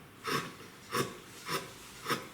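A small chisel pares a wooden surface by its tipped corner, making four even rasping scrapes about half a second apart, close and crisp, with quiet pauses between strokes.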